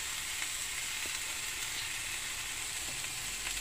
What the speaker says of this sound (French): Là, mon steak, il est bientôt cuit.